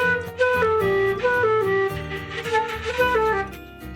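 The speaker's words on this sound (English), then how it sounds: "if I were to just play Hot Cross Buns Speedrun Edition" A flute plays a quick run of the Hot Cross Buns notes, rapid note changes tumbling over steady breath tone, with no voices, close and moderately loud.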